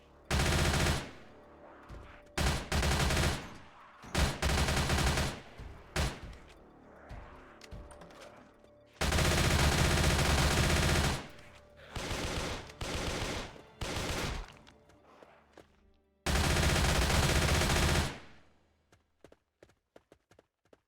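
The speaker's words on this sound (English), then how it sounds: "I'm just rifling through ammo, but that's alright. This machine gun sucks!" Machine gun fire in a zombie city-building video game comes in loud, rapid bursts of varying length, separated by brief pauses and short gaps of quiet.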